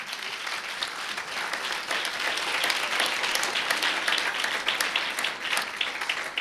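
A congregation at a Christmas church service claps steadily and vigorously for Jesus Christ, a dense, even wash of many hands that stays loud throughout without pause.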